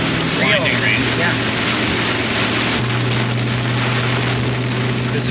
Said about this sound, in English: Not just rain, but grinding rain.